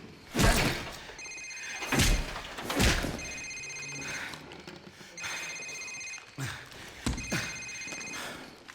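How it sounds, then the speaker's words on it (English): A cell phone rings in Call of Duty 4, its repeated electronic ring tones sounding in several bursts over thuds and faint ambient game noise. "Sir, it's his cell phone."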